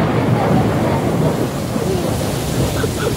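Heavy first monsoon downpour of the rainy season, flooding nearby fields, as a steady, dense roar of rain that holds loud and unbroken throughout, with no clear talk over it.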